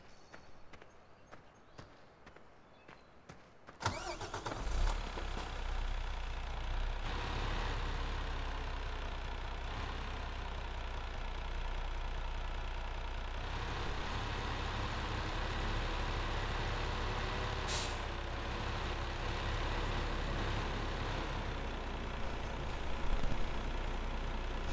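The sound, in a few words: truck engine idling in Farm Sim video game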